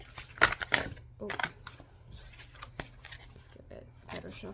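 Tarot cards are shuffled by hand in a few quick riffling bursts up close, with a speaker talking softly between and over the shuffles.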